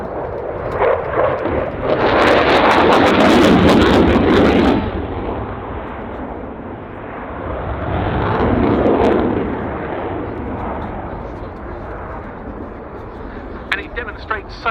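Dassault Rafale jet with two Snecma M88-2 afterburning turbofans roaring past at an airshow, a loud broadband surge that swells, fades and builds again in a second pass, with crowd and commentary under it.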